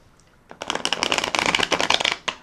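A deck of tarot cards is riffle shuffled up close, a quick dense burst of flapping card clicks lasting about two seconds after a brief quiet start.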